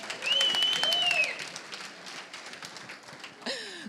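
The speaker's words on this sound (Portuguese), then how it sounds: "Palmas para ele, gente." Scattered, fairly faint audience applause at a church talk, with a couple of whistles rising above the clapping near the start and again at the end.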